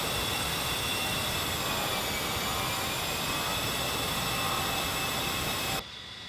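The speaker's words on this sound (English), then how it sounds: "I can hear you basically making adjustments to your throttle." A jet engine roars in the DCS flight simulator as a steady, dense whooshing drone with a thin high whine, holding a fairly even level before dropping off sharply at the very end.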